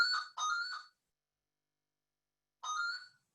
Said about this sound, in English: Sorry, that's the phone ringing in the background.